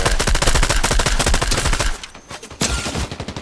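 Rapid game gunfire from a pump shotgun and other weapons, with dense overlapping blasts for about two seconds, a brief lull, then more loud shots resuming.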